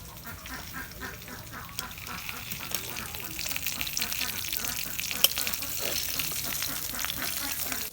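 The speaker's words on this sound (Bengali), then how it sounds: "মাছ ভাজা হচ্ছে, এখন আমি নামিয়ে নেব" Pangas fish sizzling and crackling in hot oil in a pan, a steady dense frying hiss running throughout at moderate loudness, with occasional stirring noises and no talk.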